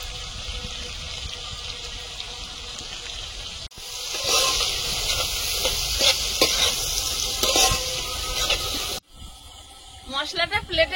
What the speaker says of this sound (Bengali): মশলাটা ভাজা হয়ে এসছে। এবার দিয়ে দিচ্ছি হলুদ গুঁড়ো